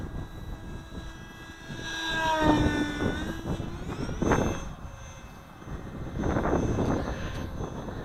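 A radio-controlled sport jet model airplane makes a steady pass, its turbine whine swelling as it approaches, dropping in pitch as it goes by, then rising again in the distance.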